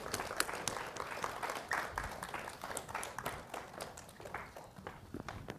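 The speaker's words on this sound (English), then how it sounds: "Yes, please give them a round of applause." An audience applauds the children's book authors Brian Floca, Christopher Paul Curtis, Jim Murphy and Jennifer Choldenko at an author conversation event, a steady wash of many hands clapping throughout at moderate distance.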